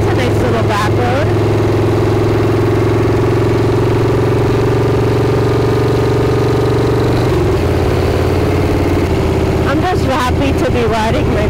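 Motorcycle engine idling steadily on a back road in warm weather, a loud continuous low rumble that shifts pitch briefly near the end, with scattered handling noises around it.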